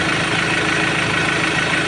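A Ford Ranger T7 engine idles with its air-conditioning compressor failing to engage, a steady close mechanical hum with a faint regular knock and no speech.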